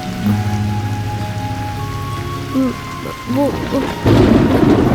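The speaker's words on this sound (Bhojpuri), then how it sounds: "बारिश बहुत तेज हो रहा है" Rain falls steadily with a low rumble, tonal sounds and a brief voice-like sound over it, then the downpour swells louder near the end.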